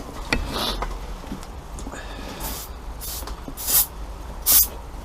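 Short bursts of aerosol penetrating spray hissing onto rusted boat engine parts in a restoration job, several quick puffs with the last two loudest, close up amid faint background clatter.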